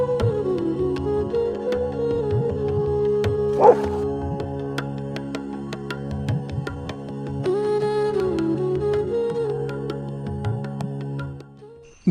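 A dog from a fairy-tale forest journey yips and whimpers in short bursts over a steady tonal musical backdrop, close and fairly loud.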